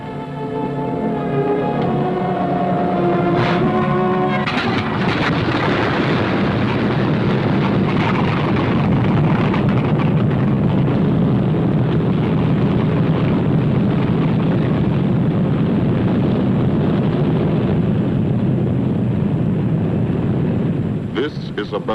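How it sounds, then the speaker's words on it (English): B-17 bomber engines roar in a dense, continuous, loud drone over the English countryside, holding steady for a long stretch after a brief musical opening. "Only the roaring engine sound of the bombers pounding through the quiet English countryside"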